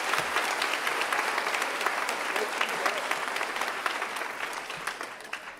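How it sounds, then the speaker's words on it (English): A junior high school audience gives a big round of applause for a school secretary, a dense, sustained clatter of many hands that stays fairly loud and slowly tapers toward the end. "Give her a big round of applause"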